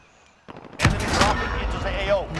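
Gunfire in Call of Duty Warzone during a chaotic firefight at a military area, opening with a sharp loud shot and then a dense burst of shooting under urgent voices of players talking.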